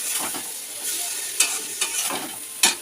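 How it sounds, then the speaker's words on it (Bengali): Hot spiced tarka is poured into a pot of dal with turmeric and spices, making bursts of crackling sizzle with sharp spits of hissing between quieter stirring moments. "তরকা ডালটা ঢেলে দিলাম"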